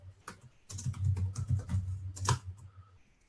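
Keystrokes on a computer keyboard as jQuery code is typed, a quick irregular patter of clicks close by, no voices.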